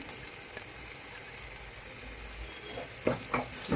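Beef frying in a pan as fenugreek powder and other spice powders go in, a faint steady sizzle with a few soft stirring scrapes near the end, close and without talk.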